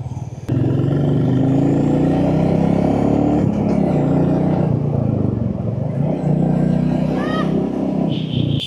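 A Royal Enfield Classic 350 motorcycle rumbles steadily and loudly up close on a street in Khulna, its single-cylinder thump sustained throughout with slight swells of revving.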